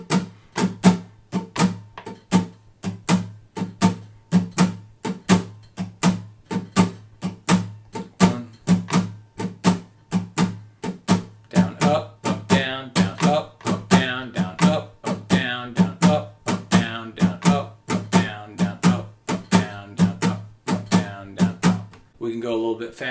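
Guitar strummed in a steady repeating down-down-up pattern, starting slow and then speeding up, each stroke sharp and evenly spaced throughout.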